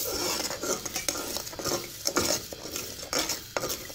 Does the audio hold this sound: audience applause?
no